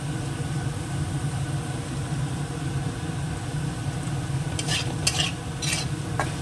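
Potatoes frying in a pan with salt, chopped chilli and onion nearby, a steady dense sizzle with a low rumble underneath and a few sharp utensil clinks near the end, close and continuous, with no talking.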